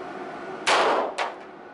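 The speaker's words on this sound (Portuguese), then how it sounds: "Vamos fazer os primeiros dois disparos com 38 Super." .38 Super pistol shots fired at a stab-resistant vest during a test: two sharp, loud cracks about half a second apart, the first longer and fuller, over steady background noise.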